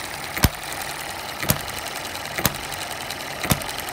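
A model hit-and-miss engine with new piston rings runs quietly on a hot day, giving sharp evenly spaced firing pops about once a second over a low steady hum.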